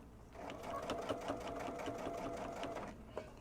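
A sewing machine stitching fabric for a kids' mood pillow, a steady quiet whir of rapid needle strokes running for about three seconds before easing off.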